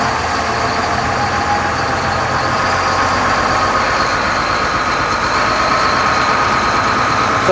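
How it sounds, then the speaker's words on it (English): An AEC Routemaster London bus with a Cummins engine running, a loud steady diesel drone and rumble heard close up from inside, unbroken throughout with no talk. "this meaty Cummins engine"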